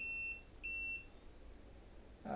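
A Bluetooth thermal printer gives two short high electronic error beeps while its cover is opened, set against a quiet room.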